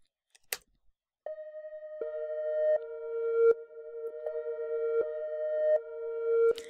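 A dry synthesizer tone plays steady sustained notes, retriggered at a regular pace, clean and close with no effects and no voices.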